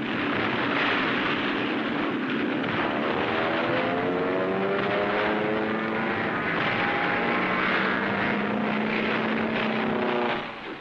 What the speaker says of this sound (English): One of our planes scores a direct hit.